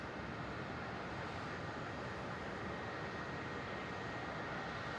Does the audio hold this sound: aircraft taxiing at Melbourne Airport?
yes